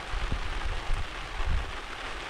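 Steady rain patters and hisses throughout, with occasional soft low thumps of drops hitting a surface.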